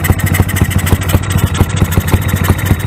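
A Yamaha YBR motorcycle with an OHC engine, tuned to run on ethanol, idles close up with a rapid, even putter of firing pulses and a steady mechanical rumble throughout.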